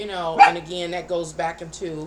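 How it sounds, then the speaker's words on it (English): A dog barks and whimpers close by in short yelps, heard under a person who keeps talking steadily. "I apologize for the dog barking."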